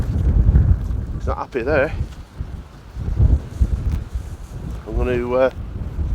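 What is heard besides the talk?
wind blowing on a windy day at the coast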